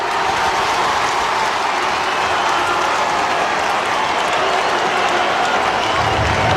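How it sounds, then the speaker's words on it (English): Nearly 50,000 fans at a Richmond Tigers vs Sydney Swans AFL match cheer and applaud, a dense, steady roar filling the stadium throughout with no pauses. "Crowd tells the story. The Tigers army is standing on its feet."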